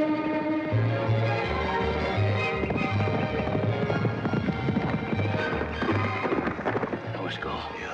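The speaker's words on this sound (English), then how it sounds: "She and Joe's horse racing." Rhythmic hoofbeats of a horse galloping in a horse race on the western series Bonanza, steady and fairly loud, with voices talking and a broad rumbling noise underneath.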